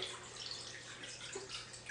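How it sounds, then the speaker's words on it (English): Water is poured into a pot over chicken bones to make organic chicken stock, a steady, soft rushing splash that runs without a break and stays quiet throughout. "we'll take our water, and you want to cover the chicken bones all the way"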